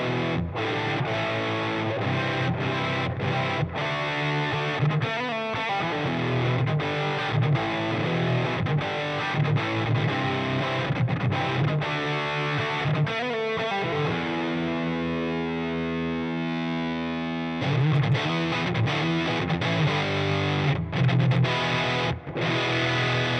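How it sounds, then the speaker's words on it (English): Thick, fuzzy electric guitar through a Siren Pedals Airavata distortion pedal playing chords and riffs, loud and saturated, with a brief thinner passage midway before the full crunch returns. "That sounds like a really nice"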